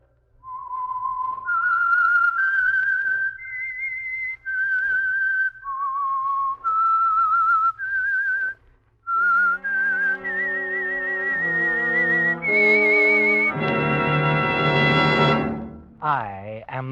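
A person whistles a slow, lilting tune, the notes rising and falling clearly, ending in a long held note that swells loudly.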